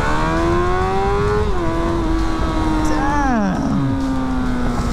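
A Streetfighter motorcycle accelerates flat out in first gear, its engine a loud, close, rising whine that climbs steadily before dropping sharply at a shift and pulling again.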